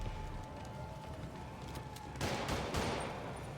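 Gunfire from the video game Spider-Man Remastered, a few quick bursts of shots rising over quiet game ambience, moderately loud and close, with no one talking.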